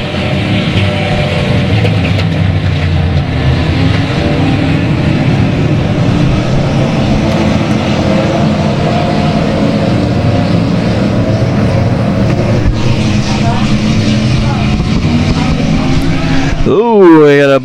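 Race cars roar around an oval track in a dense, sustained engine drone that stays loud for the whole stretch, with a car sweeping past near the end and a commentator talking over it.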